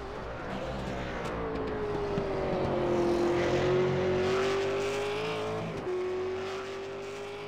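Race car in the Venom Series shootout at Bathurst accelerating hard out of a corner up the mountain, a loud sustained engine note climbing and holding in pitch, briefly dipping at a gear change before pulling again.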